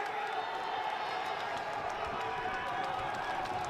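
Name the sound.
wrestling crowd on its feet cheering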